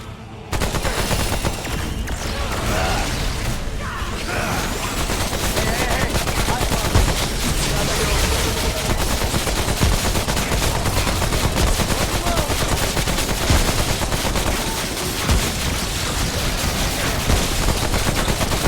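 Dense, continuous gunfire from the video game Remnant: From the Ashes, loud bursts and rapid shots running almost without pause for the whole stretch, layered with game sound effects and no clear talk.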